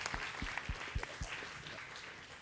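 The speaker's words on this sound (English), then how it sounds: "Let's give a round of applause" Applause from a conference audience after a talk at PyCon Hong Kong 2022, a steady moderate patter of clapping with a few sharper claps, heard from a distance through a live-stream feed.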